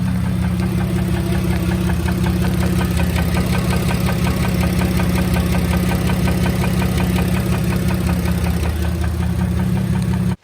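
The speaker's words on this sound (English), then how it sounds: "starting up the engine, this thing knocks pretty bad." A car engine idles roughly with a steady, heavy knocking rhythm from bad internal damage, loud and close, running continuously without any talking.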